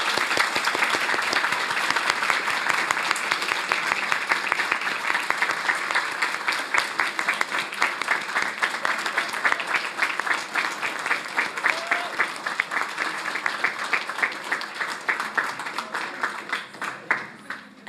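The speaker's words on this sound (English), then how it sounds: "Please join me in applauding them for their achievements" An audience at a school board meeting applauds students for their achievements, a loud, sustained round of clapping lasting many seconds before thinning out at the end.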